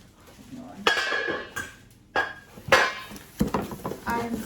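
Stainless steel pots, pans and lids from a ten-piece set knock and clank together in a few sharp bursts, close by, with rustling packaging between the hits.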